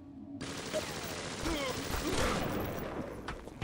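Machine gun fire in Bioshock Remastered, a sustained rapid burst that starts abruptly and keeps rattling evenly at moderate loudness until the clip ends.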